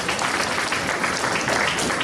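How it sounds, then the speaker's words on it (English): Graduates at a health college commencement ceremony applauding themselves, a thick, steady round of clapping from a large crowd, loud and sustained without a break. "Clap for yourself."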